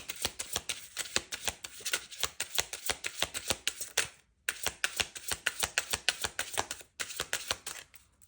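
Tarot cards are shuffled in rapid riffling bursts, crisp and close, with two brief pauses between runs.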